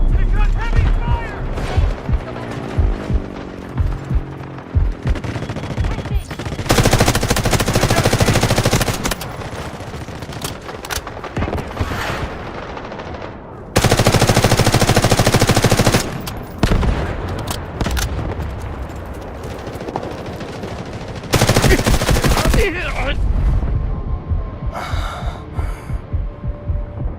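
A video game battle rages with heavy automatic gunfire in loud, sustained bursts and separate shots, mixed with explosions and combat noise, while voices call out over the fighting.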